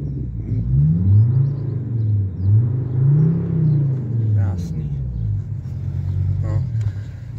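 Heard from outside, a Mercedes car engine revs in repeated swells, rising and falling in pitch several times, fairly close, with a few brief clicks and faint voices.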